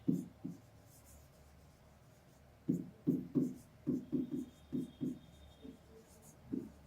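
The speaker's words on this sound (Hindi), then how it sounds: "यहां लिख लेते हैं" Chalk or marker writing on a classroom board during a Class 10 lecture on concave lens ray diagrams: a few quiet strokes, a pause, then a run of short rhythmic scratchy strokes.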